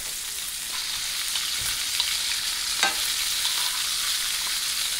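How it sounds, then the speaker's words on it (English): Clarified butter sizzling hard in a hot pan with a ribeye steak, garlic and rosemary, a dense steady hiss, close and constant, with a few faint clinks of utensils. "I'm adding some clarified butter in there because it doesn't burn"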